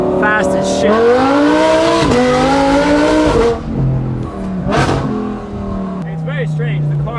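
Loud Audi R8 sports car engine accelerating nearby, a harmonic roar climbing in pitch in stages before easing off, with a sharp burst and another rise later, while people talk over it.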